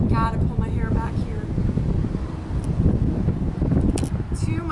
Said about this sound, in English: Too much wind and it's blowing in my face